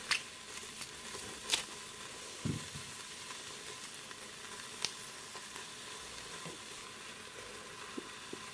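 Sausage meat fries in an Aicok electric multi-cooker, giving a quiet, steady sizzle broken by a few sharp clicks and scrapes.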